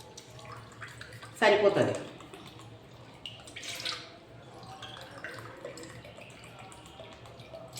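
Water is poured into a pot for cooking foxtail millet rice, a short gushing splash rising loudly then fading, followed by faint drips and handling sounds while someone talks.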